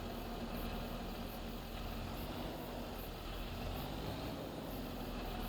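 A big farm tractor engine idles at the edge of a field, a continuous low rumbling drone with a steady hum and no pauses, fairly distant and even in level.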